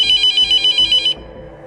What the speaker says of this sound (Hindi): लैंडलाइन फ़ोन रिंग होता है।